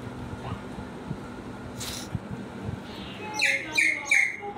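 A bird in a household setting gives three bright, sharp chirping calls in quick succession near the end, close by, after a stretch of low background noise with no voices.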